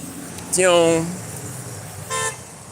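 Car horns toot in street traffic, one longer honk up close followed moments later by a shorter, fainter beep, over a low road rumble.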